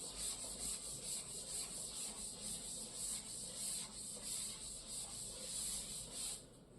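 A teacher wipes handwritten numbers off a classroom board, a steady scratchy rubbing that runs continuously for several seconds at moderate level with no voice over it.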